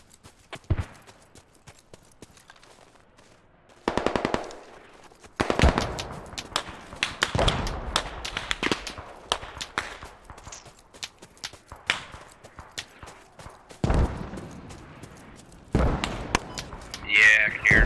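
Video game mortar fire: repeated loud bursts of explosive impacts and gunfire-like cracks come in irregular clusters, with quieter gaps between them.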